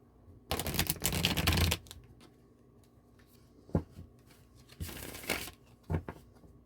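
Tarot cards shuffled and drawn from piles during a reading, heard as two long bursts of dense riffling with a few short card snaps between them, close and fairly quiet in a still room.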